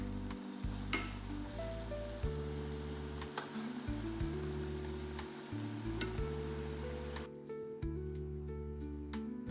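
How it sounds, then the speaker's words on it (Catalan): Potato chunks for patatas bravas fry in oil, sizzling steadily, a constant crackling hiss beneath background music. "Continuem fregint la resta."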